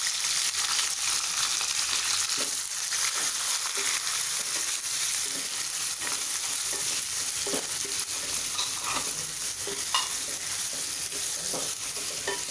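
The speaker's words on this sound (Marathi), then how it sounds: "गॅस मी आता वाढवते, मध्यम करते, म्हणजे आपला कांदा छान सोनेरी रंग येईपर्यंत परतून घ्यायचा आहे" Sliced onion and curry leaves fry in hot oil for Maharashtrian masale bhat, giving a loud, continuous sizzle broken by occasional clinks and scrapes of stirring.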